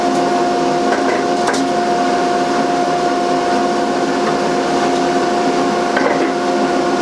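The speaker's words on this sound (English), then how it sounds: "Set the saw at 2 and a half inches. And turn on the blower so I don't have to eat all that dust." A saw cutting barn wood with a dust blower running, heard as a loud, steady mechanical drone with a constant hum, no clear breaks or talk.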